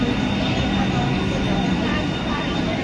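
A Mumbai slow local train pulls into platform 2 with a loud, steady rumble of wheels and carriages that fills the station.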